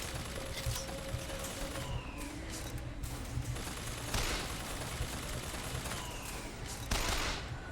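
Gunfire in the video game Bioshock Infinite: repeated bursts of shots and heavy blasts spread across the stretch, with sirens and game effects in the background.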